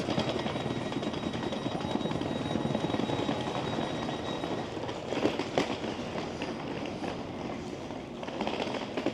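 A Stadler KISS 445 double-decker train at a station platform, giving a steady, fairly loud mechanical rumble and hum that runs throughout with a few faint clicks.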